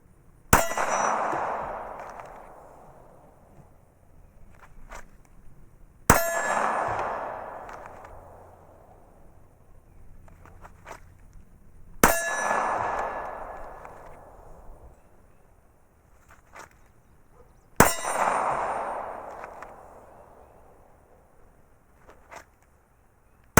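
A Glock 19 pistol fires four single shots, several seconds apart, each a sharp loud crack followed by a long ringing echo that fades before the next shot.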